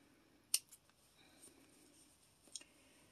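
Scissors snipping apart baby items in a nursery, two faint, sharp cuts about two seconds apart in a quiet room.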